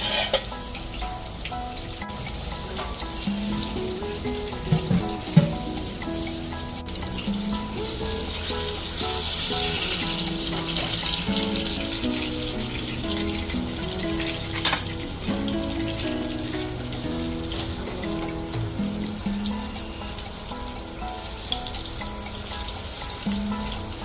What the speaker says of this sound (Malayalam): രണ്ട് സൈഡും നല്ലോണം പൊരിഞ്ഞ് വന്നാൽ